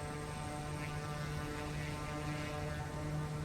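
Kodiak 100 single-engine turboprop in MSFS2020, held on brakes while throttling up: a steady droning propeller hum with a strong tonal whine, continuous and fairly quiet, no voices.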